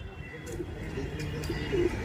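Golden-coloured pigeons being shown for sale give a soft, low coo near the end of a short stretch, with faint background noise and a little nearby voice.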